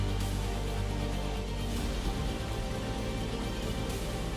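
Heavy rain pours down in Washim, Maharashtra, a dense, steady hiss of downpour that fills the scene without pause, with a deeper low rumble underneath.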